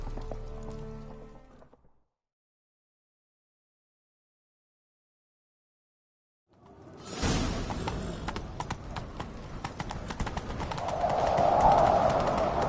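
Hooves of a horse in the video game The Witcher 3 pound rapidly in a steady gallop after a brief silence, loud and close, with rustling and clatter building toward the end.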